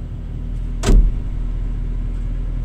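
A Kobelco SM excavator's engine rumbles steadily and loudly while being driven, with one brief, sharp clunk early on.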